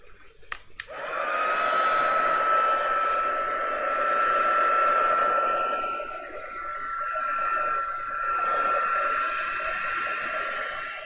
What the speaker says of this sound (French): Je vais faire un coup de pistolet chauffant